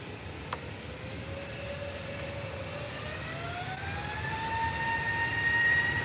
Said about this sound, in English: This is an easyJet A320 Neo to London Gatwick.